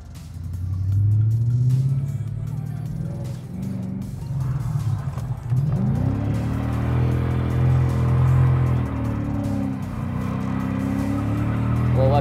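Car engine revving hard during drifting practice, a loud continuous roar with rising and falling pitch as the throttle is worked, swelling again midway through and staying near and dominant throughout.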